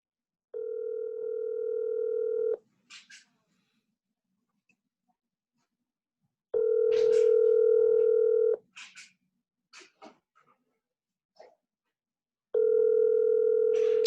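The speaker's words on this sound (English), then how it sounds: "Can you guys hear the ring?" A telephone ringing through a conference call: three long steady ring bursts separated by silence, with short murmurs of talk in the gaps.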